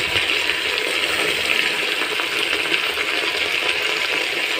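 Soaked red lentils (masoor dal) tumble into a pot while cooking Assamese lai hakor khar, a steady wet rushing and pattering that is loud, close and continuous throughout.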